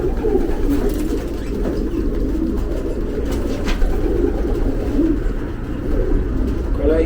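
Racing pigeons from a post-season auction coo together in a steady, continuous low murmur, filling the loft with a dense crowd of soft throaty calls throughout.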